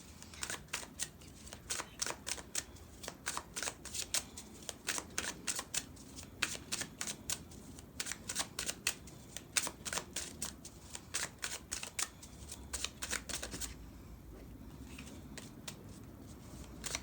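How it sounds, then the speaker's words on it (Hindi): Tarot card deck being shuffled up close, a steady run of crisp riffling flutters and soft slaps repeating for many seconds with short pauses, no voices. "यहाँ से टैरो डेक से आपके लिए कुछ कार्ड्स ले लेते हैं"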